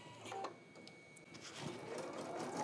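A Brother embroidery machine stitches text with 40 weight rayon thread, giving a soft, quiet mechanical whir with faint rhythmic needle ticks throughout.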